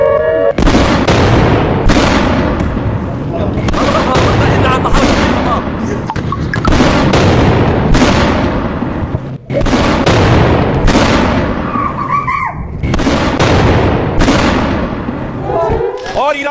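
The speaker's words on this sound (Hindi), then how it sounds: "पटाखे छोड़े जा रहे थे, आतिशबाजी हो रही थी ईरान में" Fireworks set off in celebration in Iran, a loud rapid barrage of sharp bangs and booms cracking in quick succession, dense and continuous throughout, with a voice briefly audible amid the blasts.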